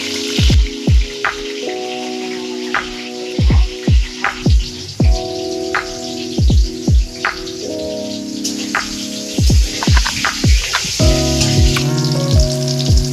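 Pieces of pointed gourd (potol) deep-frying in hot oil, a steady sizzle broken by sharp pops and bubbling bursts, close and loud, with no talk.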